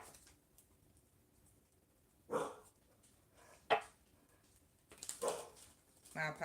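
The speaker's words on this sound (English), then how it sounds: "Somebody's outside, so you can hear my dog barking." A dog barks indoors, quiet and somewhat distant, in a few separate bursts spaced a second or so apart over low room noise.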